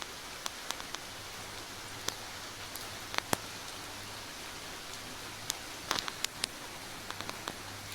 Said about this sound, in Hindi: तो अभी देख सकते हैं आप कैसी बारिश लगी हुई है।